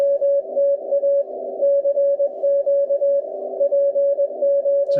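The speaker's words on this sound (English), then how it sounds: "So he's calling CQ POTA." An amateur radio operator sends a CQ POTA call in CW Morse code, a steady sidetone keying rhythmic dots and dashes over a faint band hiss, continuous and clear with no voices.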